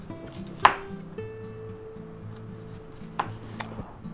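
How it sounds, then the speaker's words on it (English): Knife chopping bell peppers on a cutting board, a few sharp distinct chops spaced apart with a faint tonal hum underneath and no talk. "Yeah, I think we better chop them up into like 1/4-inch sections."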